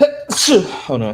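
One sharp human sneeze, close and loud, with a short sharp burst that follows a brief spoken bit and comes before more talking.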